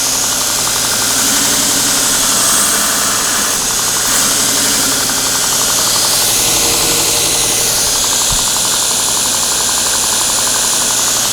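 A surface grinder runs with its spinning grinding wheel, a loud continuous whine and hiss with a steady low hum underneath throughout, with no voices.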